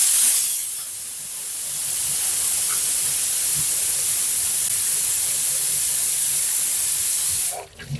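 A pressure cooker of mutton curry vents a loud, steady hiss of steam for nearly the full span, cutting off abruptly near the end with a short clatter.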